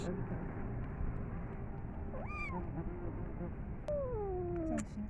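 A hungry kitten mews for food during a cat feeding, with two rising and falling meows, the second longer and drawn out, over a steady background hiss.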